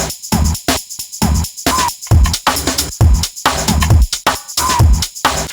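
Chopped drum break rearranged to fit a UK garage rhythm, a stuttering pattern of short punchy hits with choppy gaps and shuffling syncopation, loud and dry with no other instruments.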